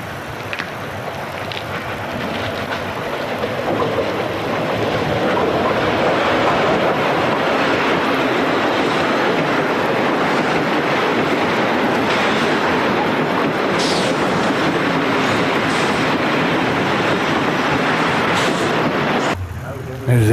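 Erie Lackawanna eastbound train arriving at Far Hills, a broad continuous rumble that builds and holds at close range for about twenty seconds, with faint high squeals and clanks, then cuts off abruptly.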